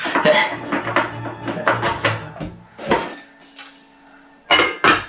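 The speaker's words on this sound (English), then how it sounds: "Put the lid on, and with this one, click that." A lid set onto a rice cooker with a sharp click as it locks shut, among several nearby clattering knocks and handling sounds of kitchen appliances, with no talking.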